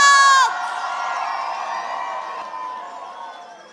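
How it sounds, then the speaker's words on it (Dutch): Cheering and whooping from the audience at a TVK dance competition finale. A bright tonal sound at the start gives way to a steady wash of crowd noise that fades slowly toward the end. "Een heel groot applaus voor Zo Zit Dat!"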